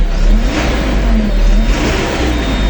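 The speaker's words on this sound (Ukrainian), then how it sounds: "Турбінка надуває." A mini tractor's small engine revs loudly up close, its pitch rising and falling in surges with a whistling turbo whine on top.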